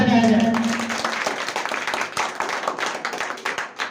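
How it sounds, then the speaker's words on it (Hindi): An audience gives a loud round of applause at a coaching centre's anniversary event celebrating Nehru's birthday on Children's Day. Dense, sustained clapping fills the room, with a voice briefly at the start. "मैं चाहूंगा कि पंडित जवाहरलाल नेहरू के जन्मदिन पे एक जोरदार ताली बजाया जाए।"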